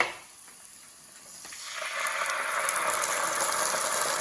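Spice mix for a Keralan coconut curry sizzling and spitting in a hot pan, starting soft and swelling after a moment into a steady, loud, crackling hiss that carries on without any talk.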